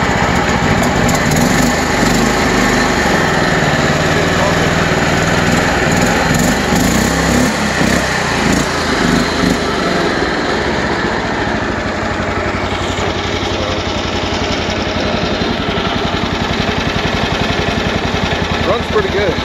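A DuroMax XP440HPE gasoline engine fitted in a Bobcat 310 skid steer idling low and steady, a loud continuous rumble close by with slight unevenness throughout; no one speaks.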